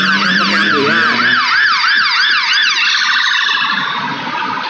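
A Mitsubishi ambulance siren wails loud and close, its rising and falling yelp sweeping steadily before the tone shifts and fades slightly as the vehicle passes, with no talk over it.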